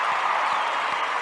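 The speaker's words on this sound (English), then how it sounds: "let me give you the applause." Applause for a sophomore Trojan linebacker at the close of an interview, a steady wash of clapping from a small group that runs the whole moment without pause.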